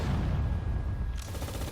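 Units in the World War II strategy game Sudden Strike 4 fire, a brief, loud, booming burst of rumbling shots with a sharper crackle near the end, no speech.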